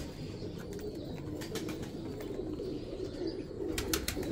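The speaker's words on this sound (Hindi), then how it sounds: "आज का तीसरे नंबर पे कबूतर कलसेरा टेडी कबूतर" Low, throaty cooing of a Teddy pigeon repeats over a steady noisy background, with a few brief sharper sounds near the end.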